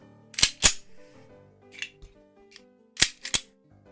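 Several sharp gunshot sound effects crack out in an otherwise quiet setting, a close pair, a fainter lone one, then another close pair, each short and punchy with brief gaps between.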